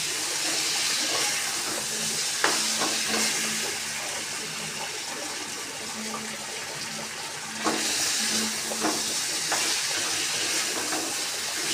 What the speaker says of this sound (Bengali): চলুন এটাকে একটু ভাজা ভাজা হোক